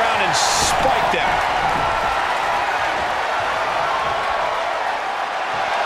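Loud, steady roar of an arena crowd cheering during a WWE 2K24 wrestling match between Edge and Sting, a broad wash of noise that runs unbroken from start to finish.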